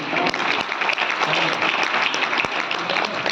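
An audience at an all-India kavi sammelan poetry recital in Satna claps steadily, a dense, sustained round of applause with a few sharper individual claps standing out.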